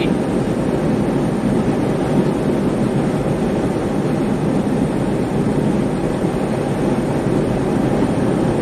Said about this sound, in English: I like how the blower motor in here sounds like a turbo.